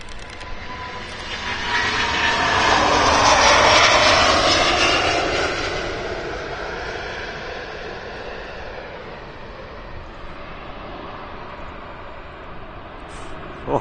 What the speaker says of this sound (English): for a 900 series A330, that sounded really good. Very modern, big engines on there as well.